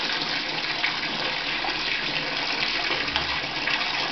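Tap water runs steadily and close by, a continuous broadband rush with no breaks and no talk over it.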